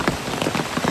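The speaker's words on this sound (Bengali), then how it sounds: "তো এই যে প্রচুর বৃষ্টি" Heavy rain pounds steadily on surfaces in a village, a dense unbroken wash of drops, close and loud, with no voices.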